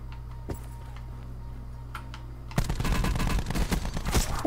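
Automatic gunfire in Call of Duty Blackout, a burst of rapid, loud shots erupting after a quieter stretch of game ambience with a few isolated earlier cracks.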